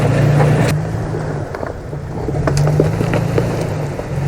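A 2021 Toyota Tacoma TRD Pro engine drones loudly off-road, a steady low rumble that swells under throttle, with wind buffeting and bumps from the rough ground.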